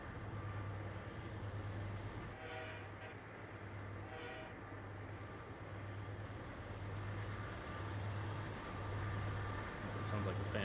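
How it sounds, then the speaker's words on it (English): AC4400CW diesel locomotive in Train Simulator, its cooling fan running at half speed as a steady low drone with a pulsing hum, heard throughout under people talking. "Sounds like the fan dropped to half speed again."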